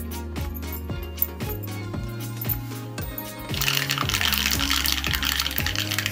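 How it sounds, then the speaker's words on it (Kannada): Mustard seeds splutter in hot oil for a tempering, a dense run of sharp pops and crackles close up that grows louder and busier in the second half, with no voices. "ಸಾಸಿವೆ ಸಿಡಿತಾ ಇದೆ."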